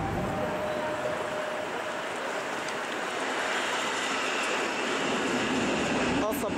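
An ED-161 passenger train moves through Warszawa Główna station in Warsaw, a steady, continuous rumble of rolling stock with faint rail noise, holding at a fairly even level throughout.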